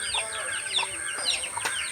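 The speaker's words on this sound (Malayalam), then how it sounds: "നമ്മുടെ കോഴിയുടെ വീഡിയോ ഒക്കെ ഒന്ന് എടുക്കാമെന്ന് വിചാരിച്ച്" Chickens clucking close by in a steady, busy stream of short calls, with no talk over them.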